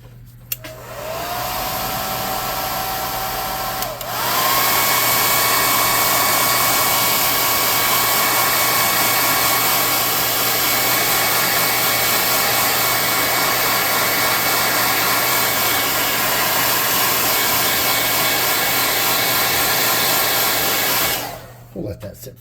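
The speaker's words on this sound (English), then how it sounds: "let's hit this with a little air first to get it to start drying" A hair dryer blows steadily on wet craft glue on a stick raft for a tabletop miniature. It is close and loud, with a short start and a pitch change near four seconds, then an even roar until it switches off at the end.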